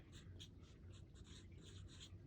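A pen scratches out short strokes in a budgeting binder, a string of quick, faint, close scribbling sounds in a quiet room.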